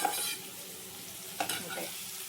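Eggs beaten with salt, turmeric, chili powder and plenty of pepper being stirred and sautéed in a pan for homemade egg rice, giving a soft steady sizzle with a brief scraping stir midway.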